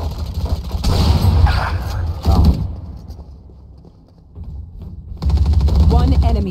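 Video game gunfire: loud, close bursts of shots and rattling fire, a short lull, then another heavy volley, with players talking over it.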